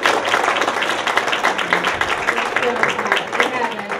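Audience applause after a talk on the global refugee crisis, close, bright and steady clapping from a modest crowd across the whole stretch, with some speech mixed in.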